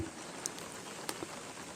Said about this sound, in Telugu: పడుతూనే ఉంది వర్షం అయితే